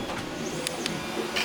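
Several printers running together in a room, a steady mechanical whir with brief higher clicks and buzzes of moving parts, fairly close and constant.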